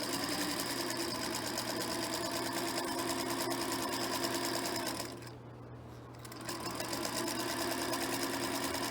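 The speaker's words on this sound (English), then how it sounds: "we want to sew approximately 1/2 inch on top of the seam that was already started" A sewing machine stitches a seam across a quilt block in a fast, steady mechanical hum, pausing briefly before resuming at the same even pace.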